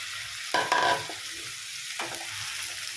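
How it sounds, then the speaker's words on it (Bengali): Spice-coated rice frying in ghee over a medium flame produces a constant close sizzle, broken by two short bursts of stirring and scraping. "এতে আমি রান্না করছি এবারে ভালোভাবে ভেজে নিচ্ছি চারটা ঘির মধ্যে"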